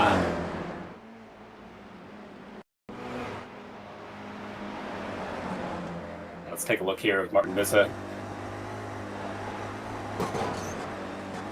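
A race car in a sim racing game drones steadily under a commentator's voice, with a cluster of sharp, brief bursts partway through as the driver brakes late and locks up.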